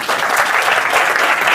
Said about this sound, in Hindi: एक बार ताली बजाओ भैया के लिए